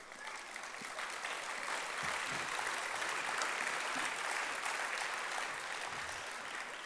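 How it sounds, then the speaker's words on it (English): An audience at a nursing diploma graduation ceremony applauds with dense, continuous clapping that holds steady and full throughout, from a large crowd in a hall. "And that applause is for each of you."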